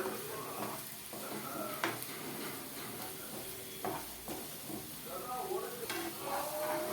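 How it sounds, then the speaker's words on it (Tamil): Garlic sautéing in oil for garlic pickle, a steady close sizzle and hiss with intermittent stirring scrapes and clicks from a spoon in the pan, continuous and moderately quiet. "நல்லா வணக்கிட்டே இருங்க."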